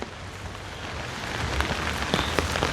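Heavy rain pours down steadily during a windy storm, a dense close wash of drops hitting surfaces that grows slightly louder, with scattered sharper splashes and no voices.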